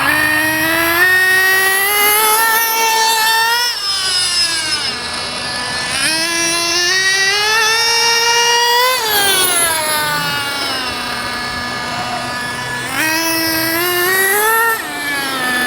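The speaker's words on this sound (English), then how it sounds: "as the engine is leaning out, the idle is raising up" A small JQ Products THE RTR model engine runs loud and close during break-in, its high buzzing pitch repeatedly rising and falling as the throttle is worked, with no talking.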